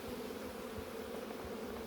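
Honeybees buzzing steadily during a beehive inspection, a faint continuous hum with no voices.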